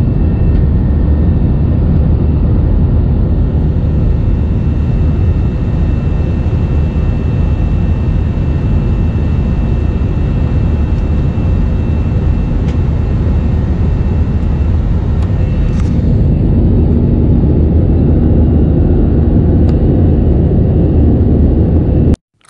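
Inside a Thai Vietjet airliner cabin on a flight to Chiang Mai during the climb, a steady low engine drone and airflow rumble fill the space, constant and unbroken, with no voices.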